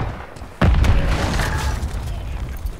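A grenade goes off in Call of Duty: Warzone 3 on Ashika Island, a sudden loud blast after a moment of quiet game noise, followed by a sustained rumbling roar.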